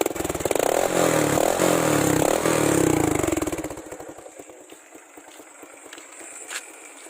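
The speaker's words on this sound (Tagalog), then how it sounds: "iti-test drive naman natin guys yung tambucho natin kung maganda nga ba yung tunog" A Rusi RS 125 motorcycle fitted with an aftermarket Apido chicken pipe exhaust revs loudly and close, a raspy pulsing engine note for about four seconds before it drops to a quieter, uneven idle putter.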